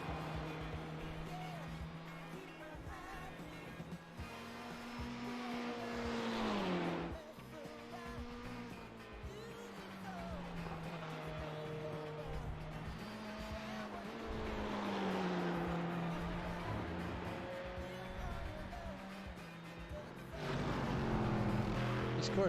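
GTE/GT1 race cars in the sim-racing game iRacing at Le Mans: steady engine drones that rise and fall in pitch as cars accelerate and shift, with a continuous commentator voice talking over them.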